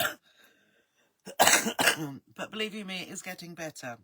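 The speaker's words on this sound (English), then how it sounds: "Sorry, I have to have a cough now." A single harsh cough bursts out, followed by someone speaking close by.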